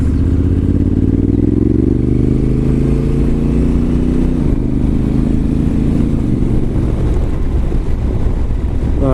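Honda Africa Twin motorcycle on the move, a loud continuous engine drone that climbs and dips through gear changes, heavily mixed with wind buffeting on the microphone.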